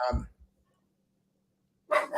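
A dog barks twice close by, short and sharp, at the start, with a person speaking shortly after on a casual sports talk show.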